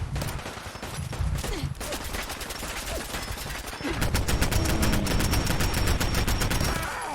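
Assault rifle gunfire in Fallout 4 rattles in rapid, sustained automatic bursts, growing denser and louder in the second half as continuous fire pours out.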